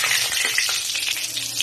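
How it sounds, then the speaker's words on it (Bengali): Whole cumin, dried red chilli, cinnamon and cardamom crackle in hot mustard oil in a kadai, making a dense, bright, continuous sizzle up close with faint spattering pops and no talking. "এবার ফোড়ন দিয়ে দিচ্ছি জিরে, শুকনো লঙ্কা, দারচিনি আর এলাচ"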